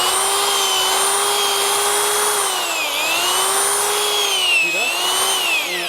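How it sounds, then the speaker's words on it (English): A steady, loud motorized whine of a drill auger boring continuously into soil to install a soil moisture sensor, pitch sagging slightly under load, with no talking. "If you just keep going, the drill just will basically go deeper and deeper until it gets stuck."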